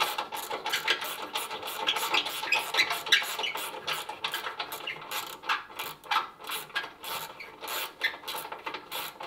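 Ratchet wrench clicking steadily while tightening a burn pot in an Englander pellet stove, a close, dense run of rapid metallic clicks and rasps with no talk.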